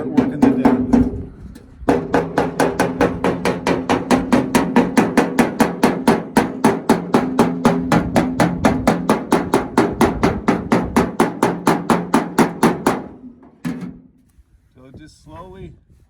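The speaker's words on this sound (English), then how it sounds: "hold my dolly in the high spot and push down on that as I start pounding this edge up. This is called hammer off dolly" A hammer works the dents out of a Ford F1 truck body hammer-off-dolly, dozens of rapid, loud metallic blows in an even rhythm for about eleven seconds, then stopping.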